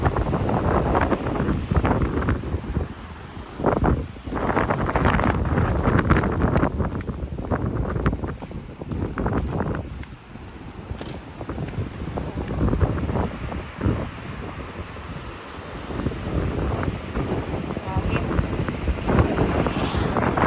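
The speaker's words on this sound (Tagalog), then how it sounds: "Hangin." Steady gusting wind buffets the microphone, a loud rumbling roar that swells and dips throughout with no clear pauses.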